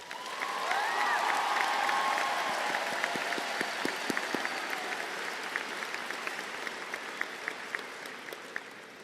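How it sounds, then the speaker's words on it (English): Commencement audience at Salt Lake Community College applauding faculty, a steady wash of many hands clapping in a large hall, sustained throughout with scattered sharper claps and a faint tonal whistle early on. "Please join me in giving these exemplary faculty a round of applause."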